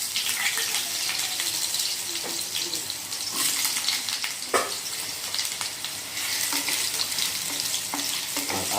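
Small cut potatoes fry in hot mustard oil with a steady, close, crackling sizzle and occasional stirring clatter, with no voices.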